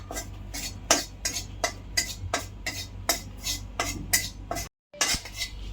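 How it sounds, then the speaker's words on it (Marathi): Gram flour (besan) is roasted in a pan on low flame, with a spoon scraping and clinking against the pan in a steady, evenly spaced rhythm of close, sharp strokes, and no talking. "बेसन आपण मंद आचेवर खमंग वास येऊस्तर लालसर भाजून घेणार आहोत"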